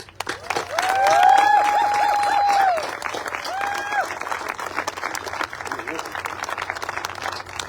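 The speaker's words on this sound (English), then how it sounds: "Give them another massive round of applause" An audience claps steadily in a sustained round of applause, with a tonal whistle-like sound sliding over it early on.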